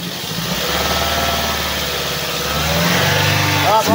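Toyota Vios engine with a suspected ignition coil fault, running rough and uneven up close, its idle wavering before the revs climb near the end.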